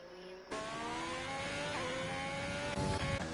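Number 16 Ferrari Formula 1 car in a racing game at Bahrain, the engine whining in and rising through the gears, loud and continuous after a sudden start.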